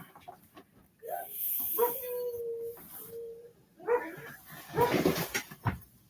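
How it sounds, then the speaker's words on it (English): A hound dog gives drawn-out baying howls and a few sharp barks, close and fairly loud, with short gaps between calls and some brief noise near the end. "I got one of them barking hound dogs."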